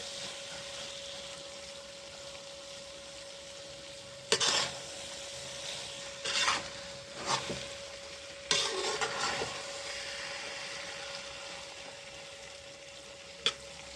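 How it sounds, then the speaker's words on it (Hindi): Carrot halwa (gajar ka halwa) being stirred in a pan, with a few scraping strokes of a spoon against the metal over a soft, steady cooking hiss; quiet and close, with no voices. "अच्छे से आपने इसे मिक्स कर लेना है हलवे को।"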